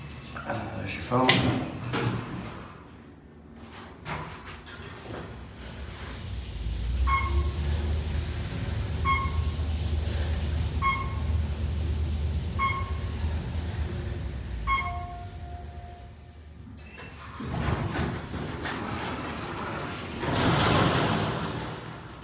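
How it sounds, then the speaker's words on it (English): Doors of an Otis traction elevator in a Toledo parking garage rattle and clatter through a series of sharp knocks and sliding rumbles over a low mechanical hum, with a person talking at times. "those are some rattly doors"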